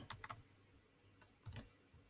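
Someone types on a computer keyboard in a few quick, sparse, soft key clicks, close and quiet, with short pauses between them.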